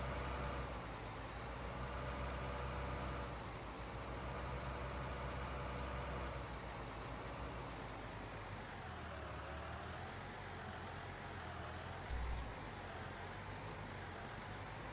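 A steady mid-to-low engine drone from a Ford/New Holland tractor pulling a Brent 644 grain wagon in Farming Simulator 19 runs continuously at even volume, with a brief bump near the end.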